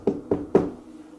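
Three sharp knocks land in quick succession on a hard surface during a paranormal investigation, close and distinct, then the room falls quiet.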